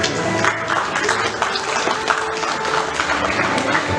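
An audience at an award felicitation ceremony of the National Forensic Sciences University in Delhi applauds the winners with dense, steady clapping that fills the whole stretch at close range.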